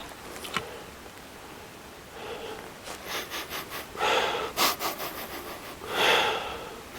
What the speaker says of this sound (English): I do a lot of sniffing out here.